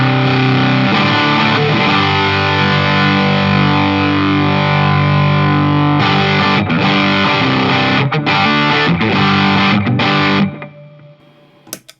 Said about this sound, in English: So here's the distortion.